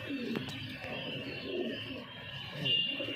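A male pigeon of an old breeding line coos softly in a quiet indoor setting, low and faint throughout with a steady background hum.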